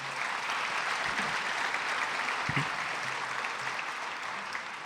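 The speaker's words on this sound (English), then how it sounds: "Minister, you may applaud." An audience at an Armenian Genocide commemorative event applauds in a steady wash of clapping, moderately loud and sustained, with a couple of brief thumps.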